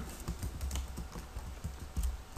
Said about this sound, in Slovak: Teraz si tu ja napíšem svoje údaje